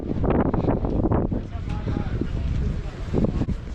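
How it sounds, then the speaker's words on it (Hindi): Strong, cold wind with rain buffets the microphone in a steady low roar, with people talking loudly over it throughout. "बहुत हवा आ रहा है, बहुत तेज़ हवा"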